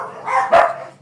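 Backyard dogs bark at something passing by, a short burst of a couple of loud, close barks with a whiny edge, with no one speaking.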